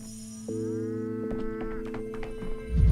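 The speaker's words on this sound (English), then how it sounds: "Oh, that's right. There's a cow in the way." In the video game Pathologic 3, a cow lets out one long, low, drawn-out moo that starts after a short pause, with a few soft clicks and a thud near the end.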